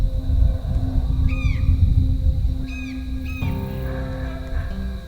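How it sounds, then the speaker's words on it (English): Howler monkeys call at sunrise in the Tikal rainforest of Guatemala, with deep rumbling roars under several higher rising-and-falling wails; loud and fairly close, no talk. "the howler monkeys are howling"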